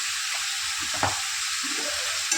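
Ridge gourd curry frying in a pan as onion masala, garam masala, black masala and coriander powder go in: a steady hiss of sizzling oil with a few soft scraping stirs, close and with no voices.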